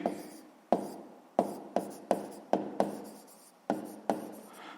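Pen or pencil writing numbers for a sixth-grade math exercise, a series of about nine distinct scratchy strokes in a loose rhythm, close and fairly quiet, with no talk.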